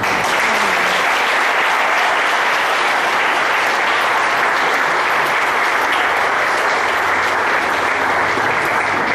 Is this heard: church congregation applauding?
yes